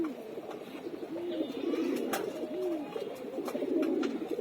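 Pigeons coo steadily and overlap at close range as they gather to drink water during cool weather, their low warbling calls continuous with a few brief rustles and knocks mixed in.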